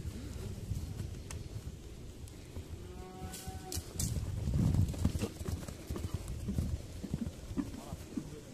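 A horse walking with hooves clip-clopping in a steady rhythm, close by, mixed with rustling and low background noise, and a person briefly speaks.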